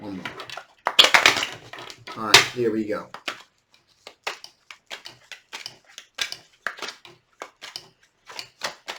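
Tarot cards shuffled by hand, heard as a quick series of crisp, close-up card slaps and clicks in an uneven rhythm after a short stretch of speech.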